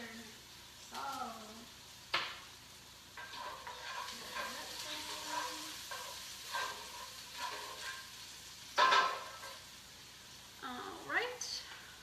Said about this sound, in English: Cook, stirring occasionally.